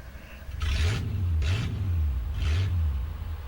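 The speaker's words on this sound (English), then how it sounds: "I love the sound of that old Chevy." An old Chevy truck engine in Farming Simulator 25 idles and revs in three rising surges, low and rumbling, loud and near, with a steady throaty drone between them.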